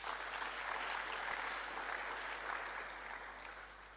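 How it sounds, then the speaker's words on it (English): Conference attendees give a sustained round of applause, dense and even throughout, with a steady low hum beneath it. "Can we also give him a big round of applause?"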